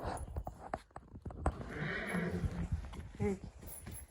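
A foal whinnies amid clopping hooves and restless movement, with people talking nearby.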